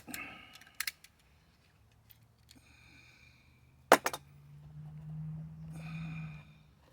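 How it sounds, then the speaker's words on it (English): Weed wacker trimmer line being snipped, a few sharp isolated cuts heard close and alone in a quiet room with faint low hum. "you want to cut that off a little bit"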